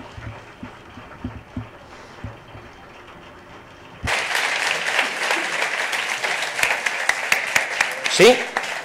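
At a robotics contest awards event, a quiet stretch with a few soft taps gives way to a sudden burst of loud applause from a crowd, continuing steadily to the end.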